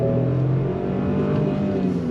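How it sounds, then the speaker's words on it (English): A 2024 Ford Bronco Sport Outer Banks pulling away under throttle, heard from inside the cabin: a steady, close engine drone with a rising hum and road noise, no speech. "we are inside this 2024 Bronco Sport Outer Banks trim, and we're gonna go on throttle"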